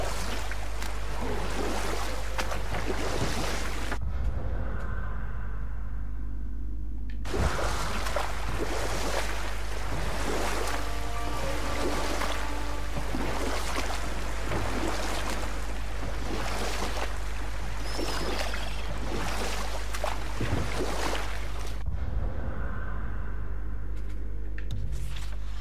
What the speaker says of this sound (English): This waterfall is even bigger now that the water's dropped.